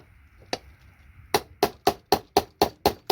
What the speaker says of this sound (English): Hit it nice and hard with a chisel, and hopefully